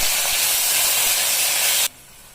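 Coriander seeds, garlic and dried red chillies frying in a pan for a traditional pappu, a loud continuous hiss that cuts off abruptly near the end, leaving quiet.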